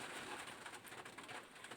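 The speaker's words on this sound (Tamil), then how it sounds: "அந்த மழைச்சத்தம் கேட்குது அவங்களுக்கு" Rain falls on a car in a continuous soft patter of drops, faint and even, with scattered brighter taps across the roof and no voices.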